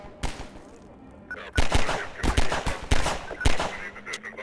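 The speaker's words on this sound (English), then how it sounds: "Where are they shooting from?" Gunfire in Half-Life 2, with a run of sharp, loud shots cracking out in quick irregular bursts over a low background hum, some near and some farther off.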